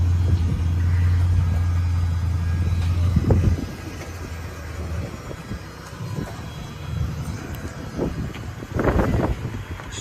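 A loud straight-piped V8 exhaust on a 1989 Ford Crown Victoria rumbles deeply while idling, then settles lower, with a few throaty revs near the end.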